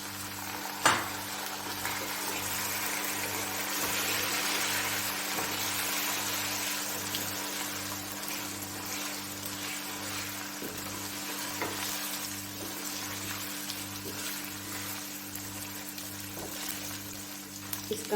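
Chicken pieces frying in hot oil with browned onions in a pot, a steady dense sizzle running throughout with an occasional stir or clink and a low hum beneath, no talking.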